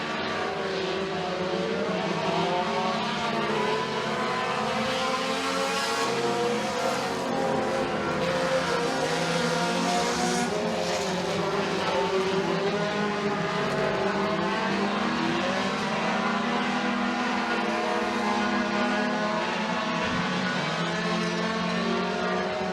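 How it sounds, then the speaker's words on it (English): Mini stock race cars roar around a dirt oval at McKean County Raceway on Hoosier tires, a dense continuous engine drone of several cars at once, loud and steady throughout with shifting pitches as they pass. "Preston Cobb dials up the low line, tries to get those Hoosier tires hooked up to the racetrack, can't do so successfully"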